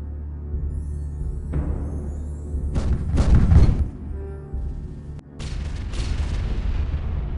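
Heavy artillery fire in the war video game AEGIS: deep booms and rumbling impacts arrive in separate clusters over a constant low battlefield hum, one barrage louder and closer than the rest.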